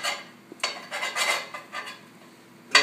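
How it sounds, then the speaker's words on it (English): Metal utensil scraping and clinking against a cast-iron dutch oven while a baked dutch oven pancake is cut in half and scooped out, a few scattered scrapes and taps close by, with a sharper clank at the end. "We sometimes like to cut them right in half in the pan."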